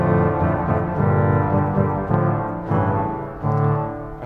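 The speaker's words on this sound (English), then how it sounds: "Then we can play the trompette en chamade in the back of the church." Austin pipe organ's trompette en chamade stop, mounted at the back of a church and sounding at 16-foot and 8-foot pitch, blares out sustained brassy reed chords, loud and full, shifting between several held harmonies with no talking.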